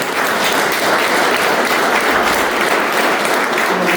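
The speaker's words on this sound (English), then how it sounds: "ask you to give them a round of applause" An audience at a mayoral reelection announcement in Pawtucket, Rhode Island applauds city employees, a dense, steady roar of clapping filling the room, loud and continuous throughout.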